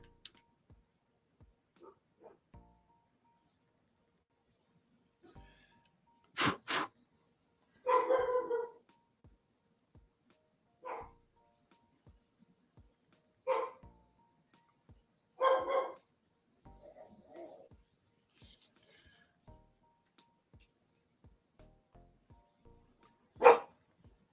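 A dog barks in scattered single and double bursts, with long quiet gaps and faint ticking between them.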